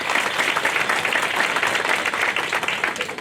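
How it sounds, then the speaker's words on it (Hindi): Audience applause at a motivational gathering, a full steady patter of many hands clapping throughout, fairly loud and unbroken. "एक बार जोरदार तालियां"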